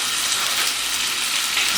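Diced chorizo sizzles as it heats up in the pot for a one-pot pepper and chorizo spaghetti, a steady, close, even hiss with no talking.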